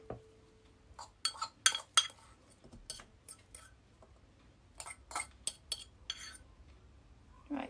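Mashed potato is scooped into a bowl, a sparse run of soft clinks, taps and scrapes of a utensil against the dish, quiet and close with short pauses between.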